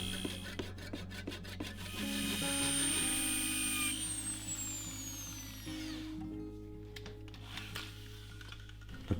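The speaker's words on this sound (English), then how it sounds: "So now it's sanding." Grinding, rasping power-tool noise of sanding a turned wooden burl, loud and steady, with a rising whine that fades midway, followed by quieter scraping and clicks.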